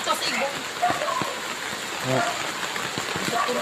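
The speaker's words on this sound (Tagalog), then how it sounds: "So, malakas ang ulan guys dito." Rain patters steadily on a surface nearby while people talk over it.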